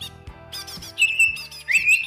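Green leafbird (cucak ijo) at a songbird contest, singing loud close whistled phrases with rising chirps, backed by a low hum and no talking.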